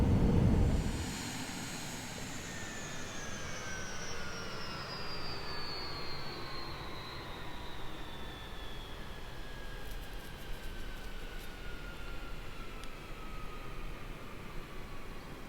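A Cirrus Vision Jet engine in Microsoft Flight Simulator, a steady whining turbine roar with a high tone slowly falling in pitch, sustained and fairly quiet, with no voices.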